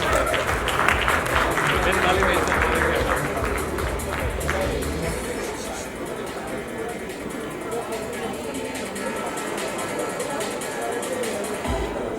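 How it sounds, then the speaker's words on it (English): Audience at an awards ceremony honouring women breaks into a big round of applause, dense clapping loud at first and gradually thinning, with crowd murmur and some voices underneath. "One more big round of applause for all our outstanding women on stage."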